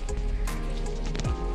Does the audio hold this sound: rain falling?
yes